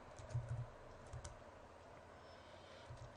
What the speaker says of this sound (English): So I'm going to go ahead and type